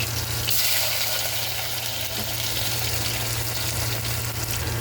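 Cumin seeds and onions fry in hot oil for a spinach dish, a steady dense sizzle with crackling, close and continuous with no talk.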